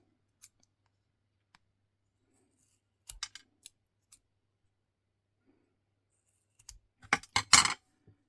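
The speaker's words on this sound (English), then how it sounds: "get my scissors and chop down the excess" Sharp snipping of scissors trimming excess hot glue: a few isolated cuts early, then a quick cluster of crisp snips near the end, close and clear against near silence.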